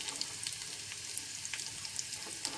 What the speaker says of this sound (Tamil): போட்டதுக்கு அப்புறமா இந்த பூண்டு நல்லா வேகணும்,